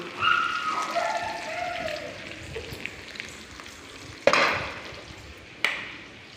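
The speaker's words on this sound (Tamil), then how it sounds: "நல்லா வதக்கிடணும். வதங்கிடுது, இறக்கி வச்சுக்கலாம்." Ingredients for Tamil mustard kuzhambu sizzling in a hot pan, a soft steady frying hiss with scraping stirs and two sharp utensil knocks near the end.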